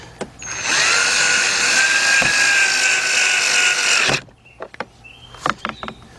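A power drill or driver tightens a fastener during AC evaporator core replacement on a 2008-2011 Ford Focus, whining steadily for about four seconds close by before stopping, followed by a few light clicks and clinks.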